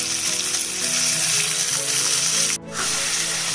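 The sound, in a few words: marinated mutton frying in ghee with whole spices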